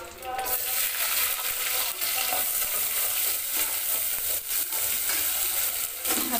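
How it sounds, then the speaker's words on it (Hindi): Garam masala sizzles in a pan of hot mixed oil and ghee for a Kaddu ka Dalcha, giving a steady crackling fry. A few scrapes of stirring come through close up. "ये देखिए गरम मसाला डालना फर्स्ट। हो गया हमारा तेल घी दोनों मिक्स।"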